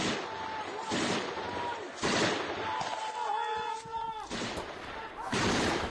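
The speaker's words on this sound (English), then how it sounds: "Russian and Ukrainian forces trade gunfire" Gunfire crackles during a firefight between Russian and Ukrainian forces northeast of Kyiv, several sharp, loud bursts spaced a second or two apart, with tonal background noise in the lulls between shots.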